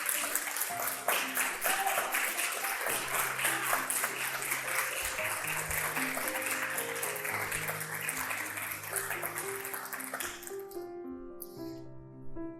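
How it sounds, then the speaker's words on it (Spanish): A church congregation claps for the Lord, with dense, sustained applause over organ or keyboard chords for about ten seconds before it fades and the music continues alone. "Dale un aplauso al Señor."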